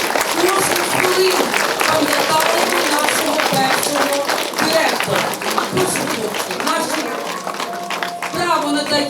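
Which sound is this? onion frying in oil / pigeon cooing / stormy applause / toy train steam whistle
stormy applause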